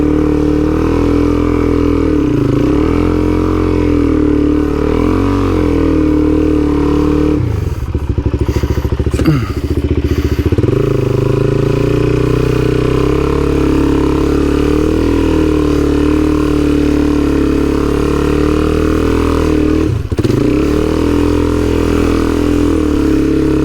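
A motorcycle engine drones loud and close throughout a ride across the Simpson Desert, with occasional dips and rises in pitch and some rattling thumps, and no talking.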